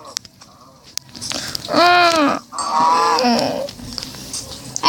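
Two drawn-out cow moos from Minecraft ring out one after the other, loud and close, with quiet clicks before and after.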